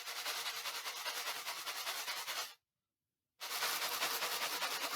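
A rattlesnake gives a dense, buzzing hiss-like rattle, steady and fairly faint, that stops abruptly for under a second and then resumes just as before, with no voices.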